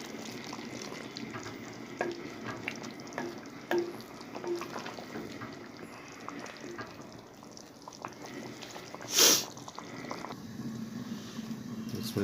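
White chicken karahi simmers in a pan as its water cooks down, giving a soft, steady bubbling sizzle with small pops and a brief louder hiss near the end.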